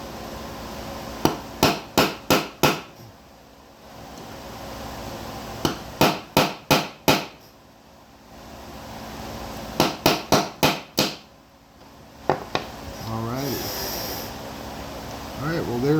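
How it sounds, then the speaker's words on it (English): Hammer blows driving a roll pin into a Honda CT70 motorcycle front fork during a rebuild, struck in three quick bursts of four or five sharp metallic whacks, then two lighter taps near the end. "We're getting close. A couple more whacks."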